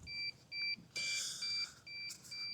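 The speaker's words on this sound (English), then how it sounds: "I also wonder what this beeping is like." Thin electronic beeps repeat in a steady pattern of short paired tones, faint and alone with a brief rush of noise partway through.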